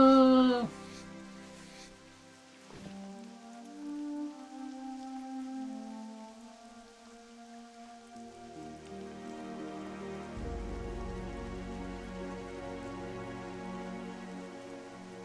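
Steady rain falls on surfaces in the World of Warcraft video game, a soft continuous patter beneath layered game music that thickens in the second half.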